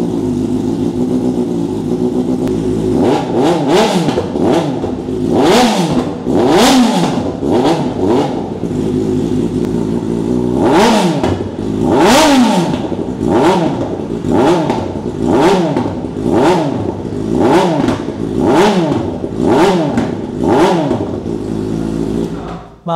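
A Kawasaki ZX4RR motorcycle fitted with a new SC exhaust and a reflashed ECU revs hard again and again, each loud blip rising and falling in quick succession, close by and with no talking.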